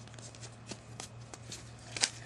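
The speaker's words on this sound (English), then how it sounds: "You want to fold that real good. So fold this. And you want to inside reverse fold that." Paper is folded into an origami peace dove with an inside reverse fold, producing soft crinkles and sharp creasing taps at irregular intervals over a low steady hum, ending with a crisp louder crackle.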